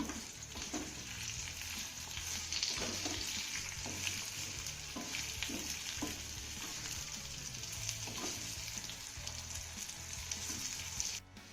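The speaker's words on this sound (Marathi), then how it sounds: "आता ही घातलेली वांगी ना आपल्याला 1 ते 2 मिनिटं यामध्ये ना चांगली परतून घ्यायची आहे." Eggplant being stir-fried in hot tempering, a constant soft sizzle with the occasional scrape and knock of a spatula against the pan, faint and steady, no talking.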